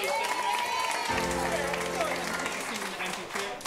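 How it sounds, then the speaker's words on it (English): A studio audience at a game show claps for a volunteer, a broad wash of applause running throughout while tonal music swells underneath from about the one-second mark. "Give Sarah a round of applause."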